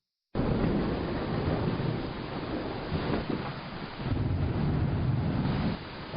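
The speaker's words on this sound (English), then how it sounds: "as you can see and hear, a storm moved in while we were doing that" A thunderstorm rolling in over an outdoor garage while car fluids are topped off, heard as a steady, loud wash of wind and rumbling noise with low swells and gusts throughout.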